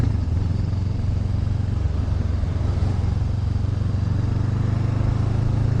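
A 2014 Honda CB500F motorcycle cruising at steady speed, with a constant low engine drone under heavy rushing wind noise and no clear revving changes.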